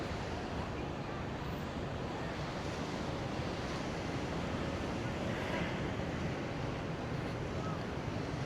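Ocean surf on Da Nang beach in Vietnam on a summer day, a steady broadband wash of waves with wind buffeting the microphone, continuous and fairly near throughout.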